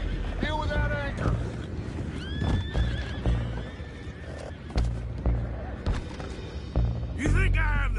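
Horses in the video game Red Dead Redemption II neigh and whinny repeatedly with shrill, wavering calls among clip-clopping hooves, wind and water ambience, while voices talk throughout.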